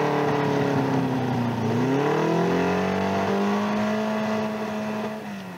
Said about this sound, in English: that certain sweet, reassuring sound of a finely tuned engine